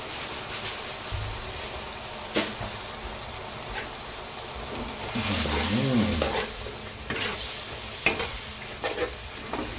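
Spicy wild boar stir-fried in a wok with fingerroot, scraping and tossing in bursts over a steady low sizzle, with a few sharp utensil clacks against the pan.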